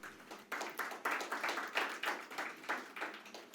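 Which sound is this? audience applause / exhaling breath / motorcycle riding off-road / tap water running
audience applause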